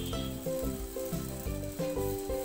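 Uttapam batter made from bread edges and curd sizzles on a greased pan with a steady close frying hiss, while a low tonal hum and periodic clunks run under it.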